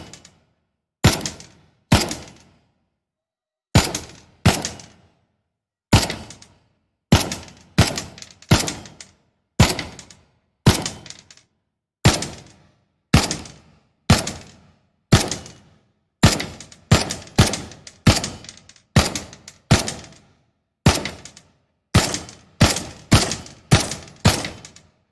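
Semi-automatic gunfire from a freehanded rifle in the VR shooter Pavlov: sharp, loud, single shots fired in irregular bursts, some spaced a second apart and others in quick runs, each with a short fading tail.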